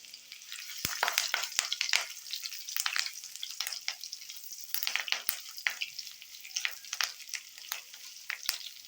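Curry leaves dropped into hot oil for rava khichdi, bursting into sharp crackling and popping sizzles that come in irregular clustered bursts, close and fairly quiet, with no talk.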